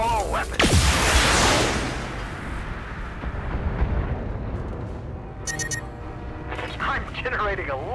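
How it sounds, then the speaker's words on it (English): In Battletech, a mech unloads all its weapons in a huge opening blast that rolls into a long rumbling boom, followed by scattered thuds and electronic alert tones over a continuous battle din. "Firing all weapons."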